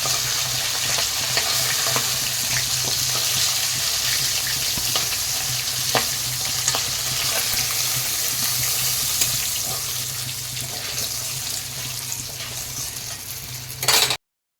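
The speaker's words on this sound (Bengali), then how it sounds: "এই তেলের মধ্যে দিয়ে দিলাম জিরা ফোড়ন দিয়ে দিলাম তেজপাতা এবার লম্বা করে যে আলু কেটে রেখেছি আলুটাকে দিয়ে দিলাম" Cumin, bay leaf and long-cut potatoes fry in hot oil with a loud, continuous close sizzle and occasional stirring scrapes, and a sharp clatter of the utensil near the end.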